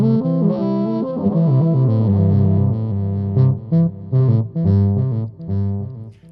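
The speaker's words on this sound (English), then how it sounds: "I do use it sometimes as just like a regular reverb delay, and that sounds like this." An electric guitar through an effects unit set as a plain reverb and delay plays a melodic phrase of sustained notes, with echoing tails trailing between the picked notes.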